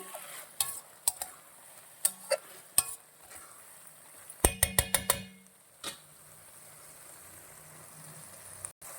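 Sesame seeds are stirred into a brinjal and potato curry in a pan, with a quiet simmering sizzle and sharp clicks of a spoon against the pan, including a quick burst of taps midway.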